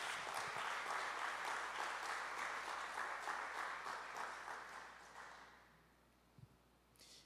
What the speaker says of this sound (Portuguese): Você pode dar um aplauso ao Senhor nessa noite?